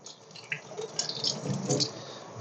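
Water rinsing fish eggs in a sink, with soft irregular splashes and drips running at low level, close by and alone.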